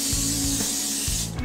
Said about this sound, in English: I'm going to spray it with a little bit of Pam.